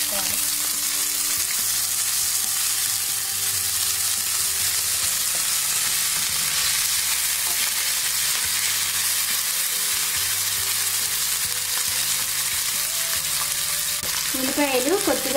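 Green chillies and onions fry in a hot tempering with curry leaves and asafoetida, giving a loud, steady sizzle that holds throughout, with occasional stirring sounds.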